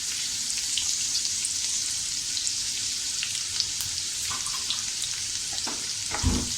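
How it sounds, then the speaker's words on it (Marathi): Green chilies, ginger and garlic sauté in a pan for bread patties, sizzling in a steady hiss with faint scrapes of stirring and a soft knock near the end, with no speech. "हे व्यवस्थित छानपैकी आपण परतून घेऊया।"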